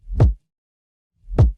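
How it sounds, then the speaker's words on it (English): Reversed kick drum swelling into the next section of a phrase: two soft, rising whooshy thumps that build to a low peak and cut off abruptly, separated by a second of silence, quiet and alone. "the kick is also reversing into the next section of the phrase"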